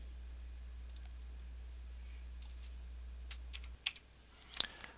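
A computer mouse gives a few faint, sparse clicks near the end, over a low steady electrical hum in an otherwise quiet room.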